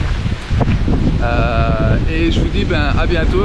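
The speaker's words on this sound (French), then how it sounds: "J'espère que vous m'entendez avec tout le vent qu'il y a" Wind buffets an outdoor camera microphone, a loud, continuous low rumble and roar that fills the whole stretch, while someone speaks French over it.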